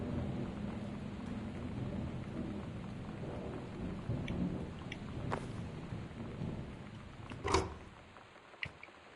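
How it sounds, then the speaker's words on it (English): Rain pours steadily with a low rumble of thunder through a spooky house in the video game Gone Home, swelling into a louder crack near the end; no voices. "And creepy thunder."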